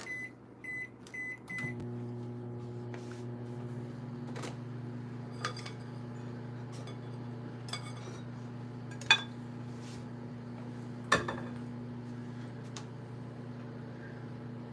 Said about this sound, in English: Let's put this in the microwave.